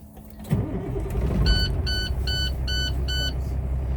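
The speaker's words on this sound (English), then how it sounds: "When I start the vehicle" A truck engine cranks and catches, settling into a steady idle rumble, while a series of five evenly spaced electronic beeps sound over it, heard from inside the cab.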